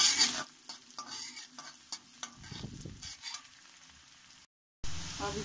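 Finely chopped food browns in a pan with a low sizzle and repeated stirring scrapes, then goes briefly silent and comes back louder.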